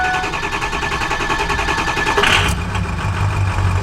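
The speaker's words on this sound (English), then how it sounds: "I'll try to start her back up, see what she does" A worn-out Ford F250 pickup engine turns over and settles into a steady, loud idle with a constant mechanical drone, heard close up with no voices.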